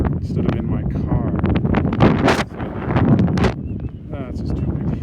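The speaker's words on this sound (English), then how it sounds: "It's just too windy." Heavy wind buffeting the microphone at a prairie overlook in loud, rumbling gusts, with a voice partly buried under the roar.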